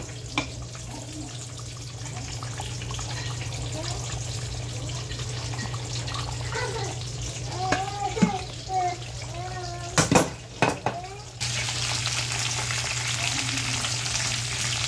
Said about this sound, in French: on est en même temps en train de chauffer notre huile pour du poisson